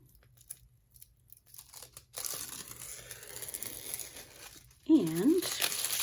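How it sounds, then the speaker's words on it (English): Crafting sticker backing paper being peeled away, a crinkly tearing rustle building over several seconds with a sharper crackling burst near the end, close and moderately loud; a faint background voice is present. "peel this away."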